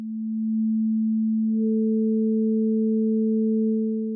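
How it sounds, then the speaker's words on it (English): A steady pure sine tone plays alone, and a second higher sine tone joins partway through, the two sustaining together at constant, even loudness to the end. "let's make this a bit more interesting by adding another sine on top"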